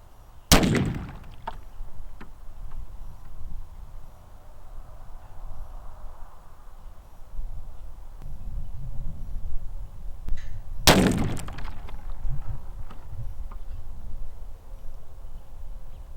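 Two sharp, loud 6.5 Grendel rifle shots firing Norma 156gr soft point rounds at a barrel, spaced about ten seconds apart, each a sudden crack with a short decay over quiet outdoor background.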